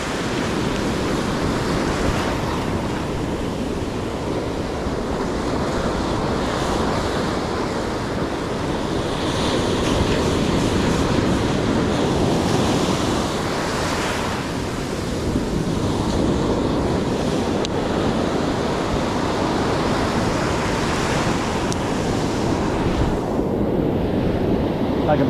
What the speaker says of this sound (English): the surf is a little big